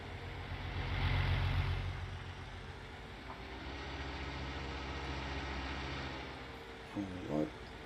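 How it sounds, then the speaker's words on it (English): Farm tractor driving along a road in the Farming Simulator 19 game, a steady low engine drone with a louder swell early on and brief bumps near the end. "let's just head on over to the shop and park this"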